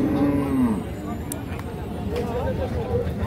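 A Holstein Friesian cow at a livestock market in Bangladesh gives a loud, close moo at the start, with more lowing and people talking in the background.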